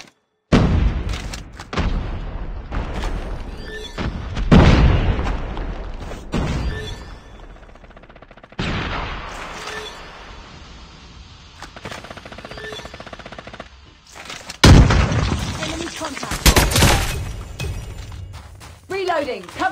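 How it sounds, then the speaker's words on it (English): Video game combat: gunshots and machine-gun fire with cracking, shattering impacts and a grenade blast, dense and loud, with voices calling out throughout. "Grenade out!"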